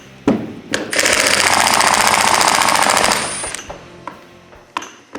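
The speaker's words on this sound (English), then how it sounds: "I've got a 3/8 impact wrench" A 3/8 impact wrench removing bolts during a closing wheel replacement on a planter, giving a loud sustained buzzing hammer rattle for about two seconds, with sharp clanks of metal handling before and after.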